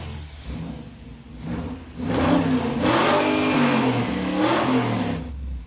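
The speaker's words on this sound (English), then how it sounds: "it's pretty clear that it's revving up really nice now" A muscle truck engine, just repaired, revs up and holds at a steady, loud roar, its pitch rising and falling in sweeps, with no talking.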